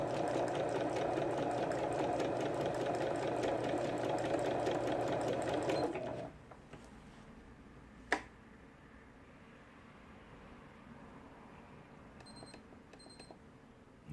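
A Singer T6900 110V sewing machine, repaired, sewing a quilting stitch: a fast, steady mechanical whirr runs for about six seconds, then stops, leaving a quiet room with a single sharp click and a few faint beeps.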